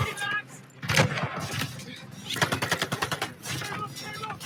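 Rapid bursts of machine gun fire in a Call of Duty battle set during Operation Tonga in Normandy, with fast rattling volleys and other shots mixed with shouted in-game voices and battle noise.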